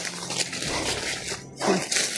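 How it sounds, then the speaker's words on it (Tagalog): A dog barks amid a noisy outdoor scene, with a few rough bark bursts partly buried in constant broadband background noise. "kira kahol"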